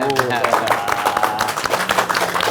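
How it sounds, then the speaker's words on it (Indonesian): Audience applause at a White Car Indonesia gathering in Purwakarta, a brief run of dense clapping mixed with voices and crowd chatter, fairly loud and close. "tepuk tangan dulu dong"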